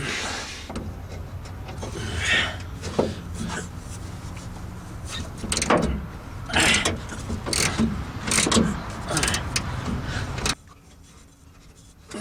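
Steady scraping, rubbing and ratcheting of a wrench working loose the top shock nut on a 2007 Ford Ranger, close and continuous with uneven bursts, then a sudden drop to a quieter background.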